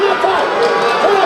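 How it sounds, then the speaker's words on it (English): Crowd at an MMA fight cheering and roaring as spectators get to their feet, a dense, loud wash of voices throughout the short moment. "crowd's getting into this here. They're standing up. They're loving it."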